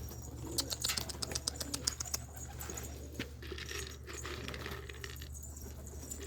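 Carrier pigeons bathing in their loft, with quick splashing and fluttering bursts and sharp clinks scattered over a steady low hum, soft cooing in the background.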